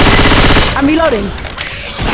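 Loud, rapid automatic gunfire bursts in Left 4 Dead 2, friendly fire hitting a teammate, with a shouted voice over the shots.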